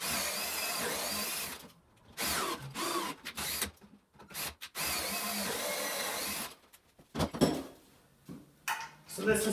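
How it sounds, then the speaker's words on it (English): A power drill whirs in bursts, drilling through a wooden cross piece, two long runs and several short ones separated by pauses, close and loud, with clinks and a few handling sounds between. "I'm going to have to drill through the cross piece"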